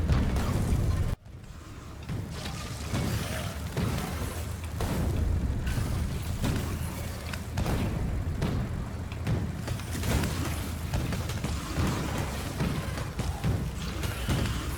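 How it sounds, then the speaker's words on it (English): Explosive tank shells bursting in the Factorio video game, a dense run of booming thuds and pops that keeps going without pause at steady loudness. "It's nice, the explosive shell, again, like a grenade."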